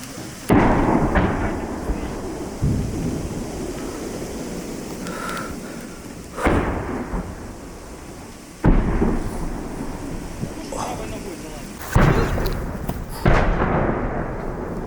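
Several heavy booming blasts of artillery fire, each followed by a long rolling rumble, sound at intervals against a noisy outdoor background during a civilian evacuation in the Kharkiv border area.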